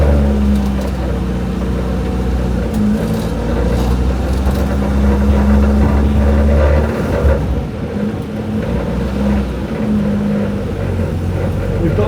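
A Renault 5 Gordini engine drones steadily and loud as the car drives a loop around an industrial estate, the pitch shifting slightly with throttle changes, with a brief dip partway through.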